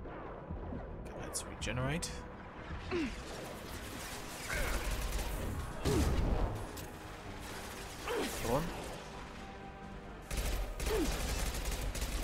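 Weapon fire from the sci-fi game Mass Effect, in a mission heading to Omega, lands as a handful of separate sharp shots and mechanical whirs spread across the stretch, under a steady game soundscape with a voice talking.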